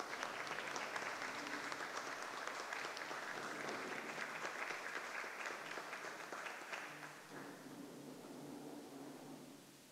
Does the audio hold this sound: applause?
yes